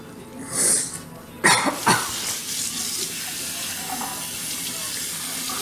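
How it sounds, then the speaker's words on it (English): Tap water runs into a kitchen sink while a turkey cavity is rinsed out, a steady close wash of flowing water with a brief cough and a couple of splashy bursts near the start. "Rinse out all that cavity."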